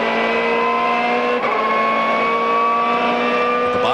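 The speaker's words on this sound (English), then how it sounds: "On board with J.J. Lehto in this beautiful BMW M3 GTR. The V8 car making well over 400 horsepower." Onboard engine note from a BMW M3 GTR V8 race car of over 400 horsepower at the 2001 Petit Le Mans, Road Atlanta: a loud, steady high-pitched drone with a brief dip and shift change midway, then climbing revs.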